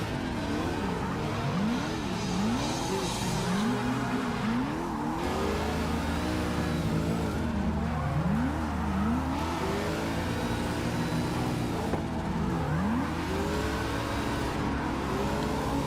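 Car drifting in the CarX Drift Online video game, with engine revs sweeping up and down repeatedly and a continuous tire squeal, loud and steady throughout with no talking.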